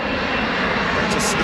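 A Japan Airlines airliner's engines roar steadily at London Heathrow Airport, a loud, broad, continuous rumble filling the whole stretch with no break and no voices.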